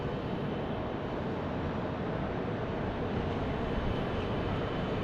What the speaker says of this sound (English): So this looks like a little Cessna CJ1, or maybe, yeah, CJ1.